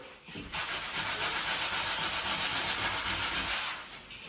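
Steady rubbing and sanding hiss of a wall being smoothed down before painting, a continuous close abrasive sweep lasting about three seconds with faint rhythmic pulses, alone without talk.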